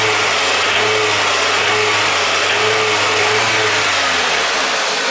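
A car engine with a failing connecting rod bearing runs and revs loudly and steadily with a rough, throaty drone throughout; no distinct knocking stands out clearly.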